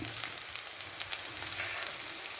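Thin, lengthwise-sliced ivy gourd and other vegetables fry in a pan for chicken noodles, giving a steady close sizzle with faint stirring scrapes and no voices.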